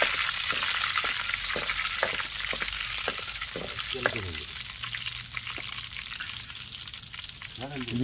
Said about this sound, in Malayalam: കറിവേപ്പില ഇട്ട് അങ്ങോട്ടൊന്ന് വരട്ടി എടുത്തതിന് ശേഷം